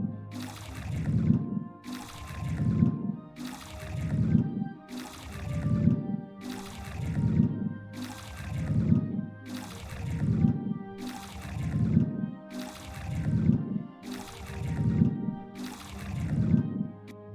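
Absorb-process sound effect from an empathy game, a steady series of about eleven low, watery swelling pulses roughly 1.5 seconds apart, each with a soft airy tail, loud and alone with no talk.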